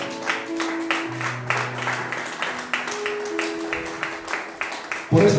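Church congregation applauding during a Spanish-language sermon, a dense wash of many hands clapping together at moderate distance, steady and sustained, with some sustained tones underneath and a louder burst at the very end.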